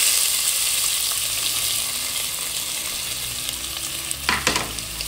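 Onions, celery, garlic and habanero blended together fry in a hot pan with a steady, bright sizzle. Near the end come a few louder stirring scrapes and clatters. No one speaks.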